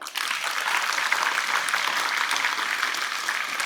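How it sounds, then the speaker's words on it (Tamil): An audience at a school Independence Day event applauds, steady dense clapping from many hands that holds at an even level throughout, with no voice over it. "ஒரு கைத்தட்டல் கொடுங்க."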